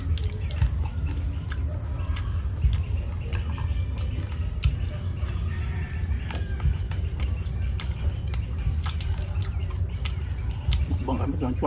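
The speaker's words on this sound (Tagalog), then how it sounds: "Mga ibon dito pag umaga wala lang, nasa tabi lang nasa nakating lang sa akin." Birds chirp outdoors on a provincial morning beneath mango trees in the Philippines, with scattered faint calls over a steady bed of insect buzz and rustling ambience, while a person talks nearby.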